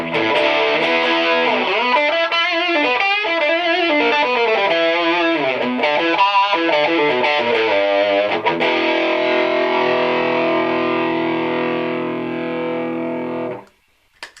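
An electric guitar plays a crunch tone through a PRS SE 50 amp: a few seconds of distorted riffing and chords, then one long sustained chord that rings for several seconds and cuts off abruptly.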